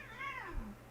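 A faint, short cat meow comes from beneath a chair, a single rising-then-falling cry set against a low background hum.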